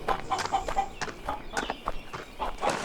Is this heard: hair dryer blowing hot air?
no